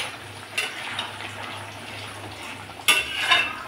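A pot lid lifted off while pabda fish and jackfruit-seed dal cook, with a metallic clink and clatter, then a sharp louder clank near the end over a low simmering bubble.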